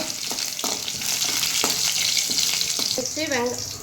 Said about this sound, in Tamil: கடுகு ஜீரகமும் பொரிஞ்சிருச்சு, பூண்டு போட்டுக்கலாம். நல்லா வதக்கிக்கோங்க.